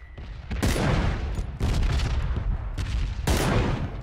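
Gunfire in PUBG on the Miramar desert map: several loud, close bursts of shots at irregular intervals over a steady rumbling game backdrop, with no talking.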